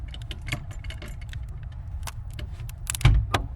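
A clutch pedal component snaps into place during a Cummins diesel swap with a 7-speed manual transmission: a sharp click near the end among light ticking and rattling handling noises, close up in a quiet vehicle cab.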